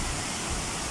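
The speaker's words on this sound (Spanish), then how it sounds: "Y miren cómo se alimenta el río de borbollones." Water from bubbling springs feeds a river, heard as a steady, close rush of flowing water with a dense, unbroken hiss and no voices.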